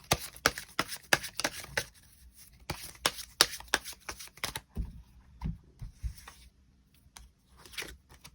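Tarot cards being shuffled and drawn, close up and alone: a run of crisp riffling flutters and snaps, then sparser soft slides and taps as individual cards are pulled.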